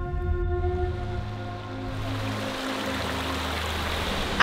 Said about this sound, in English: At the fairy pools, there are cascading little waterfalls almost immediately after you park